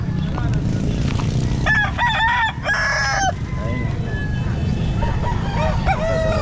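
Chickens and roosters at the Calumpit pet market cluck and crow in several overlapping calls over a dense crowd murmur, with someone speaking nearby.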